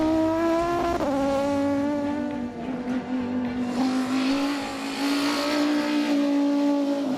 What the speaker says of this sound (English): The engine sound up front when it's coming at you is freaking glorious.